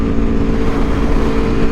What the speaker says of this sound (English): This exhaust is actually pretty nice for the OEM can.